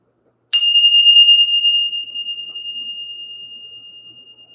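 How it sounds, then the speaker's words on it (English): A single bell, struck once to clear energy, rings out with a bright metallic strike and then a long, pure sustained tone that slowly fades with a gentle wavering pulse, close and loud in an otherwise silent space. "We're going to ring the bell."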